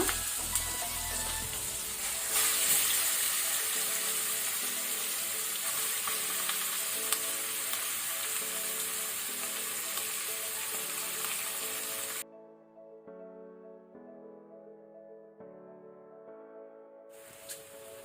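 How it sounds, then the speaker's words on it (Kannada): Marinated chicken sizzles loudly in a hot pan, a dense, continuous frying hiss for about twelve seconds before it cuts to soft background music. "ಈಗ ನಾವು ಮ್ಯಾರಿನೇಟ್ ಮಾಡಿದ ಚಿಕನ್ ಅನ್ನು ಹಾಕೊಳ್ಳುವ"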